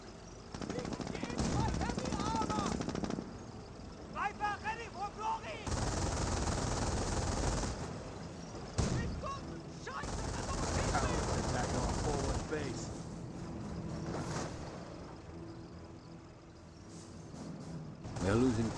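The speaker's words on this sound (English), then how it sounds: "We're taking infantry fire!" Infantry gunfire in a Company of Heroes WWII strategy battle: dense, sustained machine-gun bursts and rattling shots crackle continuously, with voices calling out over the firefight.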